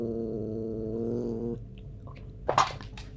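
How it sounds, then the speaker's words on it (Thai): A cat visiting a room purrs steadily and close for about a second and a half, then the sound drops away to quiet room tone and a couple of brief soft clicks or rustles. "วันนี้เรามี แมวรับเชิญพิเศษนะคะ"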